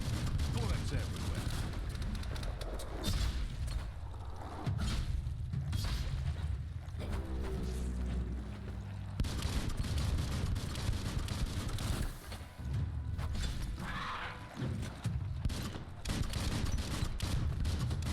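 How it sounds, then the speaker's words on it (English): Scattered gunfire and impacts in the Biomutant video game, a busy battle din running under a narrator's ongoing speech. "Bullets everywhere."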